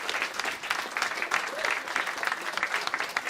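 An audience applauds at a live stage event, a dense, steady patter of many hands clapping at moderate volume for the full few seconds.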